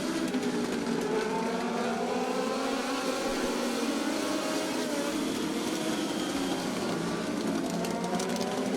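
Race cars lapping a track during heat races, a continuous loud engine roar with overlapping whining pitches that rise and fall as the cars circle.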